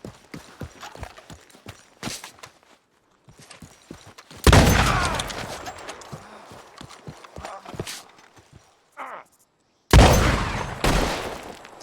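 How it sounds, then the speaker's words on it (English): Gunfire in Red Dead Redemption 2, two loud sharp blasts ringing out, the first after a stretch of horse hoofbeats and small clicks, the second near the end, with no speech. "Let's see how a bullet does against that thick skull."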